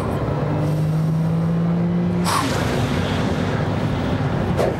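A car engine revving under throttle in a Toyota Celica, a steady droning tone that climbs in pitch, then drops as the revs fall and builds again, loud and close amid constant road and wind noise.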